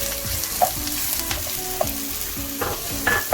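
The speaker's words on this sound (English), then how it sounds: "I'm going to add in the onions. And I'm going to cook it until it's gone soft." Onions frying in a pan for a chickpea chana, a close, steady sizzle with a few spatula scrapes and stirring knocks scattered through it.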